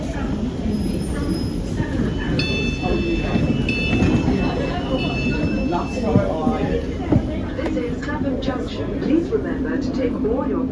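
A Class 458 train pulls into Richmond station with rumbling wheels, squealing metallic tones and brake noise, while nearby voices chatter over the steady rail sound.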